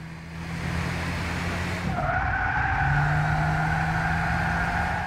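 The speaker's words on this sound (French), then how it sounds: "ces crissements de pneus est un petit peu trop prononcé" Tire squeal from cars in the Gran Turismo 6 racing video game, a steady engine drone with sustained, loud skidding screeches that rise in pitch partway through and hold to the end, no talking.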